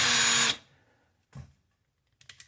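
A short burst of power drill whirring fills the first half second, then cuts off, followed by a couple of faint clicks and knocks, during a mini split air conditioner install in a garage.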